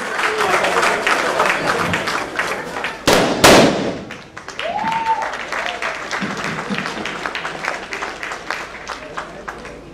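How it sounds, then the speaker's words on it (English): Applause rings out from a crowd at an event, steady clapping throughout with a couple of sharp loud bangs near the middle and voices mixed in. "a huge round of applause"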